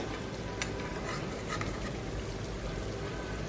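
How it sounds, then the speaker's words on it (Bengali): Meat being sautéed and stirred in a pot in a home kitchen, a steady close sizzle with soft scraping and stirring rasps and a few faint clinks, no voices. "মাংস কষিয়ে কষিয়ে রান্না হচ্ছে"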